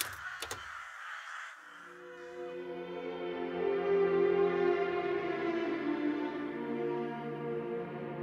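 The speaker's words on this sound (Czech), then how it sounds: "Oknem vidím, jak po diagonále nebe těžce letí Havrani." Rooks caw in a harsh, drawn-out call with rough harmonic rasp, preceded by a couple of sharp clicks, sounding fairly close and alone without speech as an audiobook sound effect.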